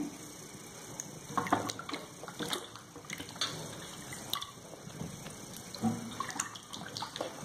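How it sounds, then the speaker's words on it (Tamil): Water sloshes and splashes quietly in a basin, with intermittent small swishes and drips as vegetables are rinsed by hand. "ஒன்றுக்கு 2 தண்ணி போட்டு அலசி சுத்தம் செய்து கொள்ளுங்கள்."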